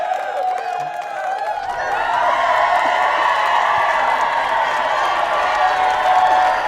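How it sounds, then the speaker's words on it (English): A live studio audience applauds and cheers as guest Daniela Mallozzi comes on stage at a live MBX Insights event, the clapping and whoops building after a quieter opening and holding steady and loud for several seconds. "Let's get a round of applause here."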